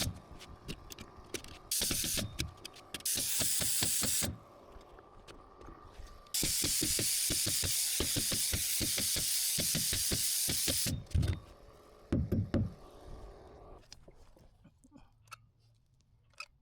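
Pneumatic nail gun firing into OSB subfloor blocking, rapid rattling bursts of shots broken by long loud hissing air blasts, close up, with no clear talk.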